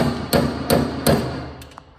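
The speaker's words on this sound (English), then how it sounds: "So this is how you pull the dent out." Three sharp metallic hammer strikes pulling a dent from the sheet metal body of a 1972 Chevrolet Impala, evenly spaced, followed by a quieter faint tap as the ringing fades.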